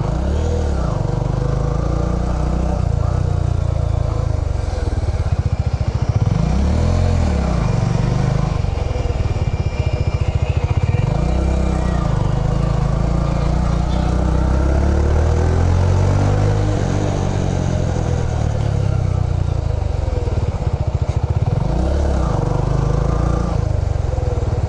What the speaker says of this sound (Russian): По-моему, они украли мотоцикл и уехали.